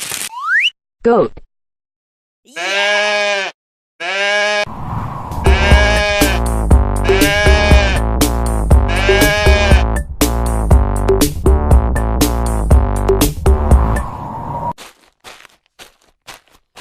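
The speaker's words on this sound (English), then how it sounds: "Goat." A goat bleats in a few loud, wavering cries, first alone and then over lively children's music that runs steadily under more bleats.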